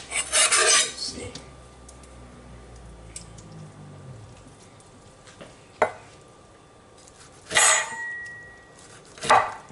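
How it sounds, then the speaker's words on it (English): Knife chopping cooked cow meat into bite-sized pieces for Guyanese souse, heard as a few sharp scraping cuts and clacks against a board, with quiet gaps between strokes. "I'm going to cut them in some bite-sized pieces"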